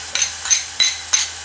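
Sliced onion going into hot ghee and oil in a pan: four short crackling sizzle bursts over a faint low hum, close and clear with no voices.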